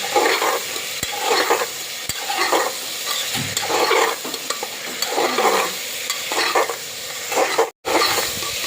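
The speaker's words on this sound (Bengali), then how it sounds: "এবার আমি এটাকে ভালো করে কষিয়ে নেব। লবণ দিয়ে হালকা করে তেলে কষিয়ে নেব।" Chickpeas and potatoes sizzling and frying in oil with salt while a utensil stirs them in the pan, a steady close crackle with intermittent scraping and stirring strokes throughout.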